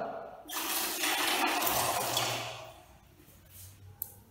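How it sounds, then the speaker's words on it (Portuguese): Water splashes out of a bottle being emptied a little to tune it as a homemade musical instrument, a steady close gush for about two seconds that then fades, followed by a faint tap. "eu joguei um pouco de água fora"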